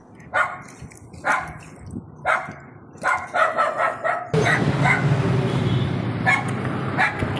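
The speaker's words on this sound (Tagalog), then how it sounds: "yun yung aso ng kapatid ko" A dog barks several times in short, spaced bursts nearby, then more barking continues over a louder, busy background.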